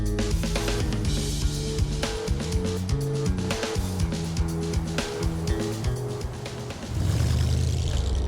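A 1961 Monarch Richelieu with a 2-barrel carburetor cruising in Drive 1, a steady engine hum with shifting low tones and light mechanical rattle that swells near the end, close up with no talk during this stretch.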